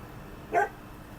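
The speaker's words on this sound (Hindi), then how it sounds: "बड़े डेंजर बड़े बड़े कुत्ते हैं यार" Large dogs in a slum area of Hanoi, Vietnam give a single short bark, moderately close, against a quiet background.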